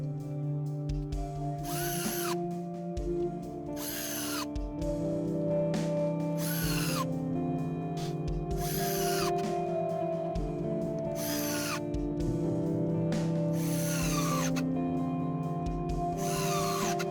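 A power drill driving screws into the back panel of a wooden snare cajon kit, with about eight short, loud whirring bursts at regular intervals and a quiet hum between them.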